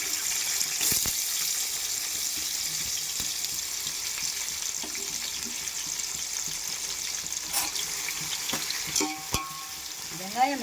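Sliced onions fry in hot oil with cinnamon and cardamom for a chicken biryani, giving a steady, close sizzle with occasional stirring scrapes and utensil clinks.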